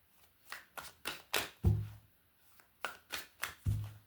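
Tarot card deck shuffled by hand in two bursts of several quick riffling strokes, close and crisp, with soft thumps as the cards settle and no voices.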